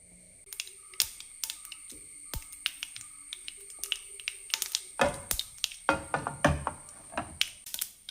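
Mustard seeds crackling and popping in about two tablespoons of hot coconut oil in a pan, sparse sharp pops at first that grow denser and louder, with a faint steady high whine in the background.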